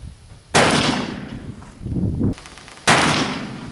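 Two loud, sharp shots ring out from a brass-frame 1851 Pietta .44 caliber black powder revolver, each a sudden broadband blast with a ringing tail, about two seconds apart, with wind noise rumbling between them.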